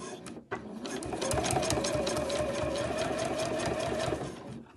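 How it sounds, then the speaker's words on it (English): Sewing machine stitching around the edge of a bag pocket lining, a fast steady rattling hum that starts after a short pause and runs continuously at close range. "we're just going to sew around the edge of the pocket"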